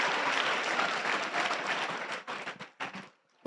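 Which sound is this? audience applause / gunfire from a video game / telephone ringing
audience applause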